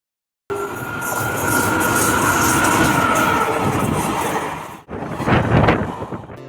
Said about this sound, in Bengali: আমাদের ট্রেন চলে এসেছে, আর আমরা ট্রেনে উঠেও পড়েছি